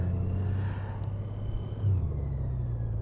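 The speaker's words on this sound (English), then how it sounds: "Let's start the video out with a little bit of a U-turn here." A 2025 Honda Goldwing motorcycle rumbles steadily through a slow U-turn, its engine note swelling briefly in a small rev near the end, close and continuous with no talk.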